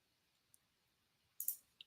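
A few faint computer mouse clicks sound in a quiet room, one light tick and then a sharper pair of clicks near the end.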